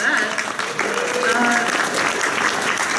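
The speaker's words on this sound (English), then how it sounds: "so round of applause for that." Panel audience claps in a loud, continuous burst of applause, with a few voices and cheers mixed into the dense clapping.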